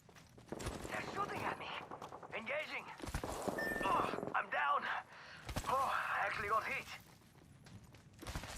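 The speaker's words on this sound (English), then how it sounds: "They're shooting at me." Gunfire in the shooter game Apex Legends, with bursts of shots and impacts mixed into busy game effects and a talking player across the whole stretch.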